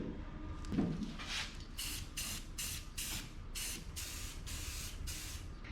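Spray painting inside a booth: a steady hiss of paint spray, pulsing in repeated bursts over a constant low mechanical background, with no talking.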